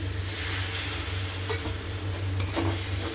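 Spice paste in a wok hisses and sizzles steadily after water is poured in, a dense continuous frying noise with a few faint scraping touches, close and fairly loud, no talk.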